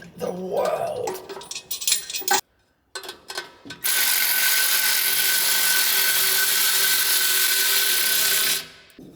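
A ratchet wrench tightens bolts in a cramped home workshop: a few quick clicking bursts at the start, a short pause, then a long, loud, steady mechanical whir that runs without a break for about five seconds and then cuts off.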